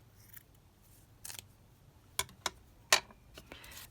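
Crisp snips of scissors trimming paper scraps for crafted embellishments, a handful of short cuts in an irregular rhythm, close and distinct in a quiet room.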